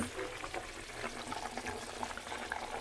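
Koi fish poured into a pot of boiling water, giving a steady bubbling, splashing wash that runs throughout at a low, close level with no voices.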